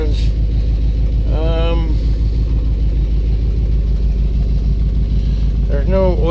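A 1984 box truck engine idles steadily with a low, continuous rumble after its first start-up, with someone talking over it at intervals.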